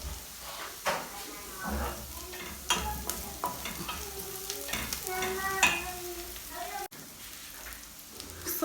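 Onion fries and sizzles in a pan for homemade meatballs while a utensil stirs and scrapes through it in steady strokes, with occasional talk over the cooking.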